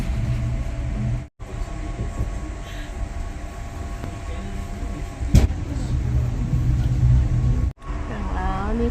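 A Swiss mountain train climbing toward Mürren rumbles steadily from inside a carriage, with wheel and track noise, a brief sharp clank midway and occasional voices in the background.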